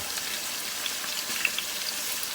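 Spice masala with cumin powder and salt frying in a pan for chicken leg pulao, giving a steady, fairly faint sizzle with tiny pops and no talking.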